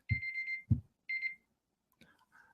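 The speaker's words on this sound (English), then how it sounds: "that was my timer" A timer alarm sounding in short bursts of bright electronic beeping, a few close, fairly loud pulses separated by brief gaps, then a softer electronic trill trailing off, with no talking.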